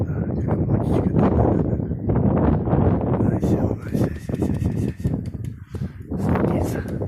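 Strong wind gusts buffet the microphone outdoors during a pigeon flight, roaring in uneven surges under a man's speech, with faint bird sounds in the gusts.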